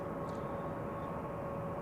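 Faint, distant airliner roar from a jet departing Zurich Airport on runway 16, a steady broadband rumble with a low hum throughout, no voices.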